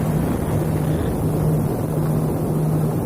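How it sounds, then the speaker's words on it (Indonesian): Speedboat running across open water from Teluk Batang toward Pontianak, a steady loud engine drone blended with rushing wind and water noise, recorded on board with no talking. "kali ini saya berdiri di atas speedboat"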